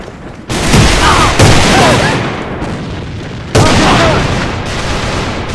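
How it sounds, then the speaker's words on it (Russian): In the online shooter A.V.A., a thrown grenade's loud boom arrives amid dense, close gunfire, with sharp bursts and a second heavy blast later among sustained rattling shots. "Бросаю гранату!"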